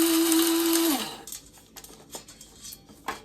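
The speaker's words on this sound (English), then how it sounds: "I can just put it through my blender" A blender motor whirs loud and steady for about a second while grinding vegetable scraps into stock powder, then winds down quickly into faint clinks and handling sounds.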